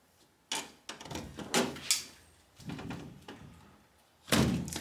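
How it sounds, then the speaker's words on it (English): A house door is handled with a series of sharp knocks, thumps and a loud final bang, close and fairly loud against a quiet room, with no talk. "This is why I like to open the door before he get here."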